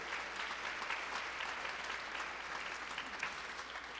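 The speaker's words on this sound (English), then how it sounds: "Let's please give them a wonderful round of applause." Audience applause after a dance performance at a Chicago dance kickoff event, a steady, even patter of many hands clapping at a fairly low level throughout, with no speech over it.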